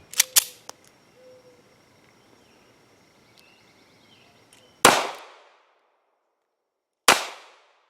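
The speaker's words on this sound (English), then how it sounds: "I'll try 7 rounds of rapid fire with my BodyGuard 380" Shots from a Smith & Wesson BodyGuard 380 pistol firing steel-cased ammunition, with a few quick cracks near the start, then two loud, separate reports a couple of seconds apart, each followed by a short decay.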